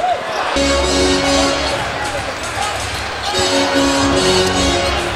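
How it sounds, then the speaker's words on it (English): Basketball arena crowd reacting during an NBA Lakers game in the third quarter, a steady loud roar and murmur of spectators that swells in waves throughout. "every time Kwame touches the ball, he's hearing the reaction from the crowd"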